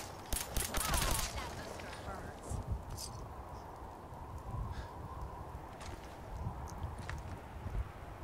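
Rapid gunfire burst from a Fallout 4 firefight against super mutants, loudest near the start and then thinner scattered shots and impacts over steady game noise, with a voice talking throughout.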